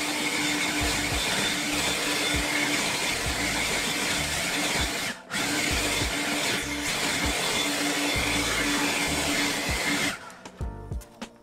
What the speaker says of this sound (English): So now let me take the blower and blow all this water off